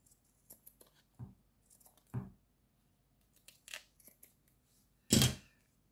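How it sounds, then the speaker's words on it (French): Scissors cut through card in a few separate snips, close and quiet, with short pauses between them and one louder, longer cut near the end. No one speaks. "Donc ça, on va couper ce qui dépasse."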